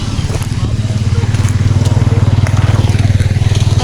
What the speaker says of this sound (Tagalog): Okay, nilabay na ang motor.